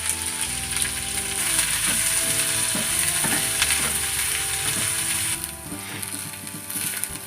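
Onions and chilies sizzle steadily in a hot pan while being fried for tomato adai, a crackling frying hiss that stays close and even throughout, with faint scraping at times.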